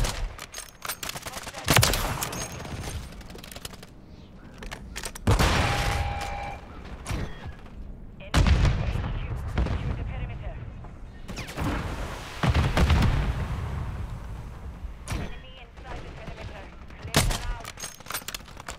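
Sniper rifle shots in Call of Duty ring out in sharp bursts amid a busy multiplayer firefight, with several loud cracks and booms spread across the stretch and voices talking over the action.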